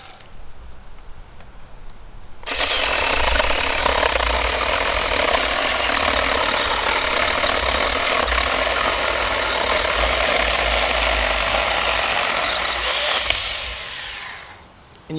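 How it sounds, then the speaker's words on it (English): A Coofix cordless 4-inch one-hand mini electric chainsaw cuts through a large piece of wood, a steady loud motor whine starting after a short quiet lead-in and running continuously before winding down at the end. "I was able to cut it easily with this Coofix chainsaw"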